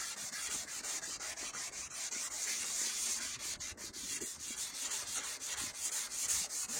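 Wet sanding over a scratched surface, a close, steady rhythmic rubbing with quick back-and-forth strokes, fairly quiet and without talk.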